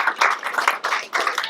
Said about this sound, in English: Let's give her a little applause for her work.